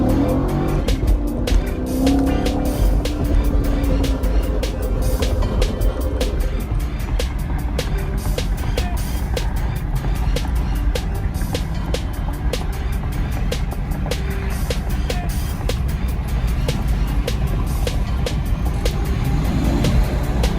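A stock 2019 Chevrolet Camaro SS exhaust in track mode roars continuously at high revs with rapid crackling ticks throughout, loud and close for about twenty seconds.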